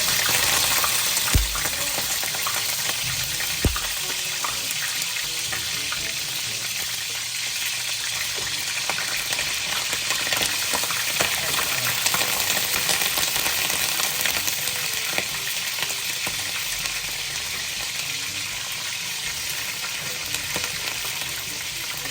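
Chicken pieces fry in a non-stick pan for kinamatisang manok, giving a steady, dense hiss and crackle that carries on unbroken, with a few soft clinks and no talking.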